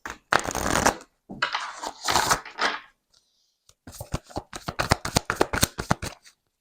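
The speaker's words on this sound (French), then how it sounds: "On va prendre une carte du voyageur sacré." Oracle cards are shuffled in quick, close, crisp riffling bursts, then a run of rapid flicking snaps as one card is drawn, with brief pauses between the handling sounds.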